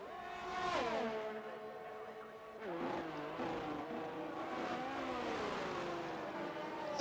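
Race cars in the Project Gotham Racing video game, racing at Bahrain: engines rev and shift through gears side by side as one overtakes another, moderately loud and steady.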